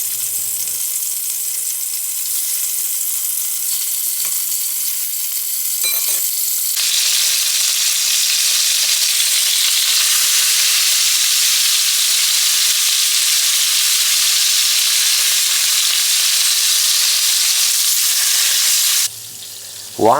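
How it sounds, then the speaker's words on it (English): Pork browns in a warmed pot for a beer-braised pork and potato stew, giving a loud, steady sizzle that runs without a break and changes briefly near the end, with no talking. "Once the pot is warmed, add the pork and cook until its surface gets nice brown color"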